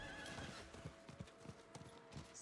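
Rhythmic hoofbeats of a horse galloping in Diablo IV, steady clip-clop thuds at a brisk pace with a brief whinny, under game ambience.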